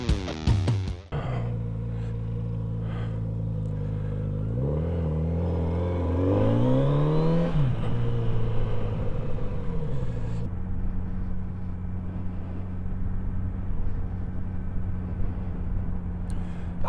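Kawasaki Z900RS motorcycle engine starting with a sharp burst, then idling and revving up, the pitch sweeping upward before dropping back to a steady rumbling drone, close and continuous.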